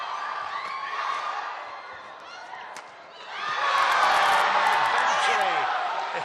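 A packed arena crowd at the 2014 Badminton Asia women's doubles final cheers and roars during a long rally, swelling sharply partway through, with some high shouts and a commentator talking over it.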